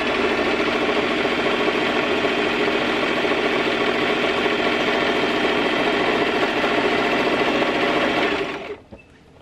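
Sewing machine stitching fabric, a steady close mechanical whir running continuously for several seconds before stopping abruptly near the end.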